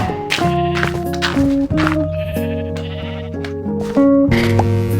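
Minecraft sheep bleating in a blocky game world, several short tonal bleats layered over steady game background music, loud and close throughout.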